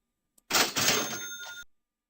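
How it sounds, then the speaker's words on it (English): A cash register rings once, a short bright mechanical chime with a metallic clatter, clear and close, with silence before and after. "Let's see if we can ring the cash register."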